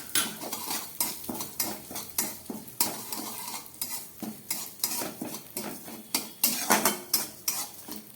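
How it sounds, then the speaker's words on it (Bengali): Moong dal and Gobindobhog rice stirred and fried in oil in a pan, a rhythmic series of close metal spoon scrapes and clinks against the pan roughly every half second over a soft sizzle, no talk. "এবার ডালটাকে একটু ভেজে নিচ্ছি।"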